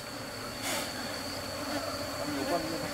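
Bees buzzing around a beekeeper in protective gear near the hives at the end of the flowering season, a steady insect drone with a thin high whine running through the whole stretch.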